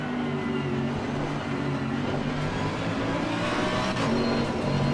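A GT3 racing car passes on the right at Brands Hatch in the racing game Assetto Corsa Competizione, heard as a loud, steady engine drone with a slight swell toward the end.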